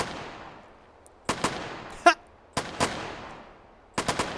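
Gunfire at a simulated shooting range in the video game H3VR, sharp bursts of two or three shots and single cracks breaking out at intervals, each echoing and fading into quiet.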